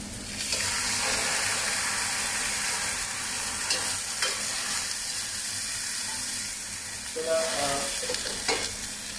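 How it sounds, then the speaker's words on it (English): Broccoli stir-fry sizzles loudly and steadily as vegetable stock goes into the hot pan, with bursts of hissing and stirring throughout and a few brief clinks near the end; no one speaks. "And now we put a little bit of vegetable stock in it."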